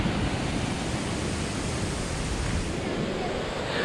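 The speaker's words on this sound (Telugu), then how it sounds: "సో చూడండి, వాటర్ఫాల్ కింద ఉంది." Rushing water at Srinapally waterfalls near Nizamabad, a steady broadband roar that stays constant and fairly loud throughout with no clear break, heard from close by in a forested setting.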